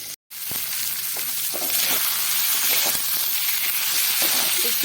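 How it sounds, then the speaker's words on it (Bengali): Boiled, deboned fish seasoned with turmeric and salt fries in a pan, a steady dense sizzle with small crackles and a brief dropout near the start, no talking. "আর মাছটা একটু ভেজে নিচ্ছি"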